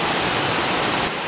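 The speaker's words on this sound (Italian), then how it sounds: "cascate bellissime" A tall, full waterfall near Calabritto in southern Italy pours down with a dense, steady hiss and roar, loud and close, with no break.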